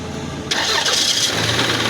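A car engine cranks and catches at a youth mechanics training centre, the sudden loud start settling into a steady close idle rumble.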